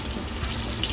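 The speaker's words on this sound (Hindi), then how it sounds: "ये हम कढ़ाई कबाब के लिए कबाब सेक रहे हैं।" Kebabs for kadai kebab pan-fry in oil, a close, steady sizzling hiss with no pause and no voices over the short stretch.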